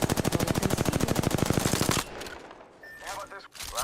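Rapid automatic gunfire from the Apex Legends video game rattles loudly for about two seconds, then stops and leaves quieter game sounds with a few scattered shots and effects.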